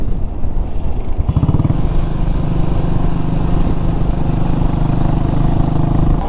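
A Royal Enfield Himalayan BS6 motorcycle is ridden on the highway between Chennai and Kanyakumari, giving a loud, steady engine drone mixed with wind rush that holds constant throughout, with no voices.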